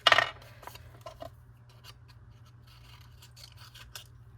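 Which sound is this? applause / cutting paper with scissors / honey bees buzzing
cutting paper with scissors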